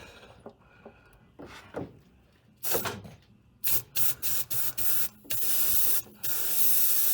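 An aerosol cleaner sprays through a red-tip nozzle into a VW Beetle fuel line, letting out a series of short, close hissing bursts that end in a longer sustained spray.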